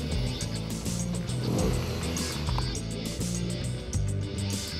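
BMW motorcycles ride off-road on rough tracks in Morocco's Atlas Mountains, their engines rising and falling in repeated throttle bursts, loud and close throughout with no talk.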